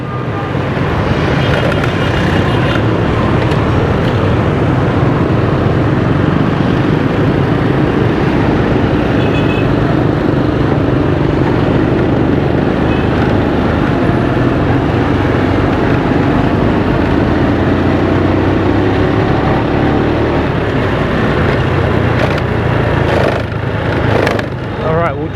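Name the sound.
motorbike riding through busy Hanoi street traffic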